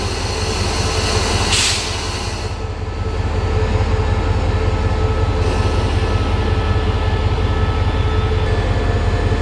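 The Royal Blossom special train of the State Railway of Thailand running on a trip from Pa Sak Jolasid Dam, a loud continuous rumble and rattle of wheels on track heard from close by, with no talk.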